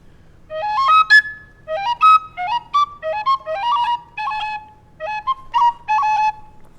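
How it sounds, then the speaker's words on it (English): Tin whistle playing a demanding four-part Irish traditional tune, bright ornamented notes in quick phrases with short breaths between, clear and close, solo. "I'll play them on the whistle"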